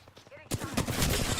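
Rapid bursts of video game gunfire crackle loudly after a brief quiet start, overlapping shots filling the scene with dense, continuous firing.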